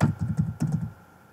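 Keys tapped on a computer keyboard, a short burst of quick, soft keystrokes in an uneven rhythm that trails off into quiet near the end.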